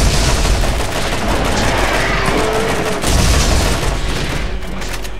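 Dense, loud gunfire fills a Borderlands video game battle, a continuous barrage of shots and booms with no break.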